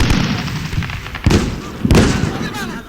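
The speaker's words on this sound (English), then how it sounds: "There's 2 heavy machine gun positions that are opening fire on my Humvee." Heavy machine gun fire in the Combat Mission: Shock Force war game, two positions shooting at a Humvee: dense, rolling bursts of gunfire with sharp louder reports standing out from a constant crackling battle din.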